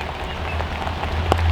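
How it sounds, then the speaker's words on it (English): Steady rain falls outdoors after a campfire has been put out, a continuous soft patter with one brief sharper knock near the end. "It's raining."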